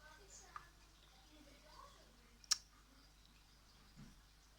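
A computer mouse gives a single sharp, close click in a quiet room, with a few fainter soft sounds scattered before and after.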